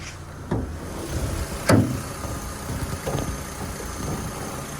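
A Skoda Octavia A5 1.6 MPI engine idles with a steady low rumble, broken by a few clicks and clunks nearby.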